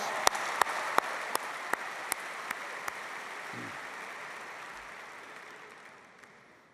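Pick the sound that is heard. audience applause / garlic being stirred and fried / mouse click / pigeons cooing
audience applause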